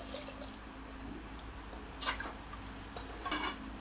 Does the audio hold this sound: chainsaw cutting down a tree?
no